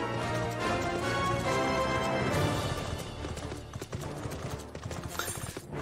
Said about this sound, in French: maintenant vous savez que c'est le cheval de dame